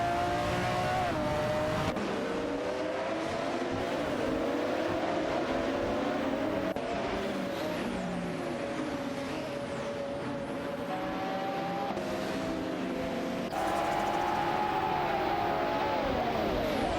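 Race car engines in an AI racing video game, a Bugatti EB110LM and a McLaren F1 among the field, whine and climb steadily through gear changes, several cars layered together in a loud continuous drone.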